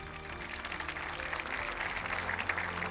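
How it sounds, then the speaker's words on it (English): Sustained applause from a ceremony audience at the Zayed Award for Human Fraternity at the Founders Memorial in Abu Dhabi, a steady dense wash of clapping that holds at even loudness for the whole span. "Please join me in giving them another round of applause."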